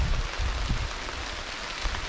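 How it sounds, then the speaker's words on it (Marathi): A sudden rain shower in a Konkan village near Ratnagiri: a broad, steady wash of falling rain with a low rumbling undertone and no voices. "अचानकमध्ये पावसाची सुरुवात झालेली आहे इकडे."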